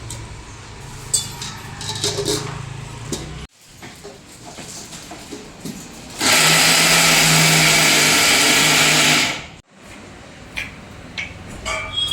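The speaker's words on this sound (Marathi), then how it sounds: "भिजवलेली डाळ एकदम बारीक वाटावं लागते मिक्सरमध्ये" A loud, steady mixer grinder whirs for a few seconds grinding soaked chana dal, starting and stopping abruptly between quieter stretches of background noise.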